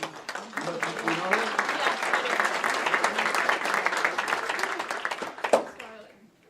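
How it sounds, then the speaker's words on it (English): Audience at a gala chef-of-the-year dinner applauds a speaker coming to the stage, steady dense clapping for about five seconds with chatter and cheering mixed in, then fading out. "let's give her a hand of applause"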